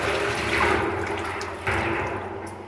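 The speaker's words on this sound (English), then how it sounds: "You might just be able to hear that the pump's kicked into life" A transfer pump running at full speed, about 40 litres a minute, pumps liquid into a vessel, giving a steady, close rushing and gurgling flow that swells briefly partway through, with no talk.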